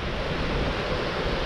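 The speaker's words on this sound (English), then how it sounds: "It's very windy" Strong wind roars across the microphone over surf breaking at the seaside at Blue Anchor during a fishing trip, a steady, dense rush with no voices.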